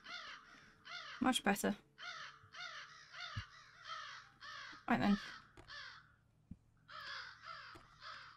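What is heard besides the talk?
crows cawing in the video game Sense: A Cyberpunk Ghost Story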